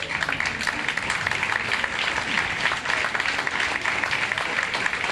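An audience at a conference event bursts into sustained applause, a dense continuous clatter of many hands filling the room at fairly loud level, with faint crowd murmur beneath.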